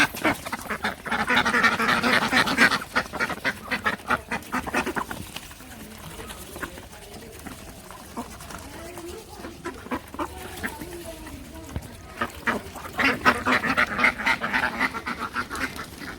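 Ducks quack in dense, loud bursts near the start and again near the end, with quieter stretches between where people talk.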